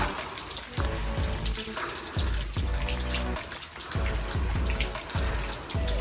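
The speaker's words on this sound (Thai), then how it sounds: "ก็จะมีเสียงน้ำเย็นเสียงน้ำไหลลงมานะครับ" Water flowing down inside a cave splashes and trickles steadily with irregular low gurgles, loud and close, echoing slightly in the enclosed space; no talking.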